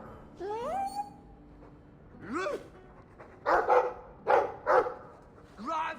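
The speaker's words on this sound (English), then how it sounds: "I like the doggy." A dog in the video game Dragon Age 2 gives a run of short barks and whiny yelps, some rising in pitch. The calls come in separate bursts over low game ambience.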